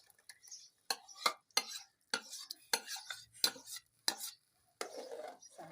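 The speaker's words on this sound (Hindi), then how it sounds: "साथ साथ इसको ऐसे हिलाते जाएंगे और इसे लो फ्लेम पे इसकी हम भुनाई करेंगे" Semolina being stirred into makhandi halwa in a pan over low flame: a spoon scrapes and taps against the metal in a steady series of sharp strokes, with faint sizzling between them and no talk.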